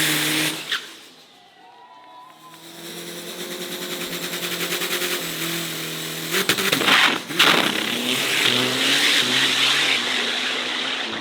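An Isuzu 4JJ twin-turbo diesel dragster engine with a twin compound turbo setup revs at a drag strip in Thailand, rising from a low idle into a loud, sustained, climbing roar with brief throttle dips.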